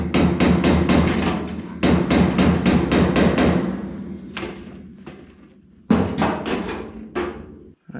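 Rapid, loud hammer blows strike a metal car body panel during rust repair in quick runs of ringing clangs, pausing briefly between bursts, with no talking.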